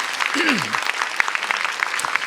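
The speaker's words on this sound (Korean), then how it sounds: "우리 박수로 우리 사모님 같이 우리 환영하고 축복합니다." A church congregation at an evening revival service claps to welcome a guest, dense even applause filling the room for a couple of seconds while a voice briefly speaks over the start.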